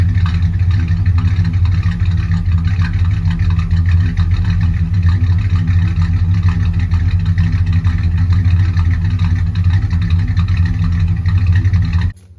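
A tuned 1966 Dodge Coronet station wagon engine idling close by, a loud, steady clattering rumble that runs for about twelve seconds before cutting off abruptly.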